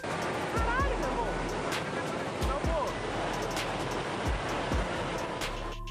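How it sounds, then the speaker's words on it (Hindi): Water roars out of the spillway of the Ituango Dam as the full reservoir is discharged, a steady loud broadband rush with low rumbling underneath and a few brief thumps. "जब झील पूरी तरह से भर जाती है तो उसके पानी को डिस्चार्ज करना पड़ता है"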